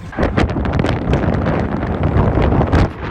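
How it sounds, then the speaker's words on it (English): Strong wind on the middle of an interstate highway buffeting the microphone in loud, continuous gusts with a deep rumbling roar, no talking. "It's so windy."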